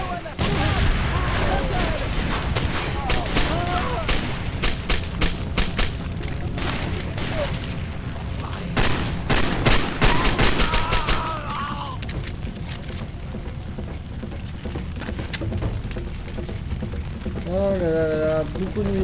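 Gunfire from the video game Far Cry 2, repeated bursts and single shots cracking through a busy, loud firefight with booms and clatter, continuing on and off throughout while someone talks over the action.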